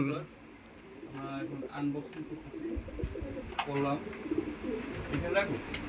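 Repeated low pigeon coos rise and fall over several seconds, close by, with people talking intermittently underneath.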